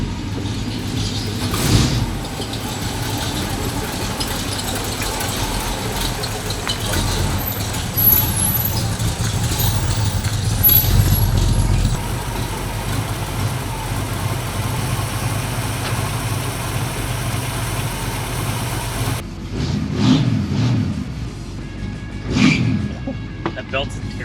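A 1968 Ford Mustang engine fires up and runs steadily at idle, a low continuous rumble with a few revs, while people talk nearby throughout.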